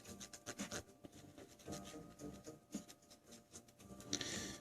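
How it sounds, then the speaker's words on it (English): A Nintendo cartridge circuit board is scrubbed to remove old cleaner residue, giving steady, quiet rhythmic rubbing and scratching strokes up close with no speech. "Looks like this board's got some residue of a previous cleaner or something on it as well. So I'm going to sit here and scrub at it."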